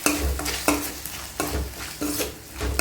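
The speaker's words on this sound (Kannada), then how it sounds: "ಇದನ್ನು ಕೂಡ ಚೆನ್ನಾಗಿ ಮಿಕ್ಸ್ ಮಾಡ್ಕೊಳ್ಳೋಣ." Chopped tomato frying in a pan for palak dal khichdi is stirred in regular strokes about every 0.7 seconds, each scrape standing out over a constant close sizzle.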